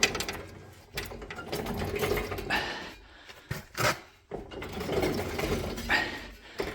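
A snowblower gearbox with a suspected bad bearing is turned slowly by hand, giving irregular mechanical clicking, grinding and ratcheting at close range, quiet and uneven, with short pauses.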